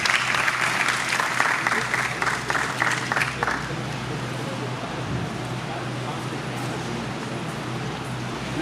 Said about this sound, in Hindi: तालियों के साथ सर का स्वागत करेंगे